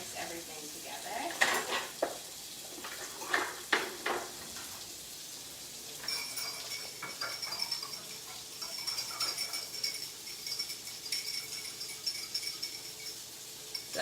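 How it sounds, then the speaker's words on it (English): A whisk clinks and scrapes against a bowl while mixing a sauce of ground ginger and garlic powder for General Tso's meatballs, giving quiet irregular taps and rattles throughout, faint and close. "I'm just going to use a whisk to mix everything together"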